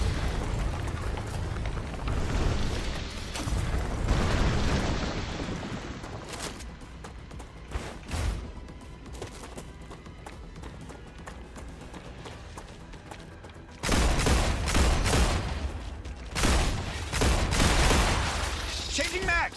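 Rifle gunfire in the video game StarRupture, rapid bursts of loud booming shots with explosive impacts, heavy at the start and again near the end, separated by quieter stretches of game ambience.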